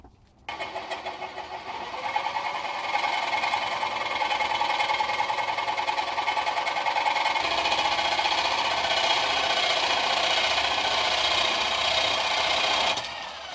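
A REMS Tiger ANC reciprocating pipe saw cutting through old steel pipe: the motor spins up and settles into a loud, steady, rapid buzzing saw stroke that runs on continuously before stopping.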